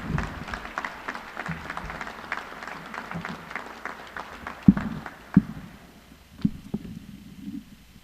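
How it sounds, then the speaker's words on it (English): An audience applauds a graduating fire recruit class at a fire department ceremony. The clapping is dense and lively at first, then thins out to scattered claps and a few sharp knocks as it fades. "Please join me in giving these men and women a round of applause"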